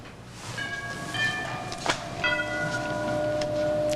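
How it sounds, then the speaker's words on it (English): A doorbell rings in a home, two clear chime strikes about a second apart with tones lingering in a quiet room. "I think it is my doorbell."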